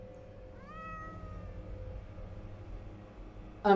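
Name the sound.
cat meowing in video game The Excavation of Hob's Barrow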